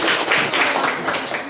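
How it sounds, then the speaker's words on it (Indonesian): A school class of seventh graders claps hands during a civics quiz, a short burst of fairly close, rhythmic clapping with no voices. "Tepuk tangan lagi."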